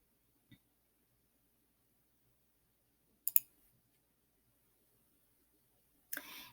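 Computer mouse clicks on a laptop sound as three isolated sharp taps in near silence, spaced a few seconds apart, the last slightly longer.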